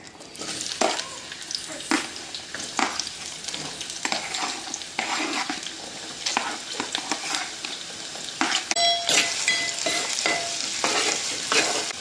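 Curry leaves and turmeric frying in hot oil for a broad bean (chikkudukaya) masala curry, a steady close sizzle with repeated stirring scrapes and clinks of a utensil against the pan throughout.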